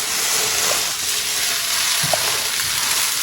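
Matzah brie, an egg and matzo mixture, fries in a pan and is turned, producing a dense, even sizzle with faint scraping.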